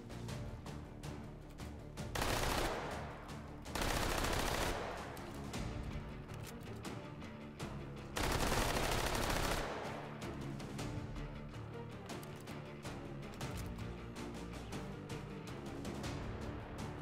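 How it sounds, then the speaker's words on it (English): Loud belt-fed machine gun firing in the VR shooter H3VR Take & Hold mode, sustained rapid bursts of automatic fire separated by brief pauses, dense and close. "Loud gun, oh my god,"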